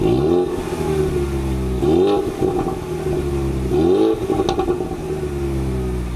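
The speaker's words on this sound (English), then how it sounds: "the worst being the EcoBoost Mustang. Now take a listen." A Ford Mustang EcoBoost engine revs hard several times, exhaust rising in pitch and dropping back, loud and close with a rumbling idle between pulls.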